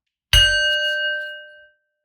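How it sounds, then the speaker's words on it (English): A single meditation bell is struck once to open a session, giving a bright clear strike followed by a sustained ringing tone that slowly decays over about a second and a half into silence. "Let's begin with a bell."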